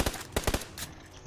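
Rapid gunfire in a video game, aimed at a Jeep, comes as several sharp close bursts in quick succession and then trails off into quieter background noise.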